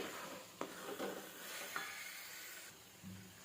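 Grated carrot halwa frying in a pan, a soft continuous sizzle with a spatula scraping and stirring in a few quick strokes, close and quiet.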